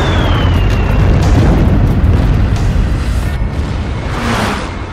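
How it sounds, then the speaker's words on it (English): A loud, rumbling explosion from a 1,000-pound bomb striking a World War II Japanese submarine, a heavy continuous roar that fills the whole clip and slowly tails off, with no voices. "The explosion rocks the Japanese submarine, damaging it and preventing it from diving beneath the surface."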